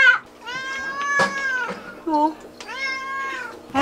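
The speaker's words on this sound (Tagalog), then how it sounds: "So, may pusa!" Indoors in a home, a cat meows three times in drawn-out, wavering cries, close and fairly loud, with a faint voice briefly heard between them.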